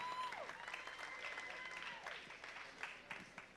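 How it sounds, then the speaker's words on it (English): A crowd applauds at a fight-night event after a guillotine-choke win, a steady wash of clapping and cheering that fades slightly toward the end. "Let's give these guys a big round of applause."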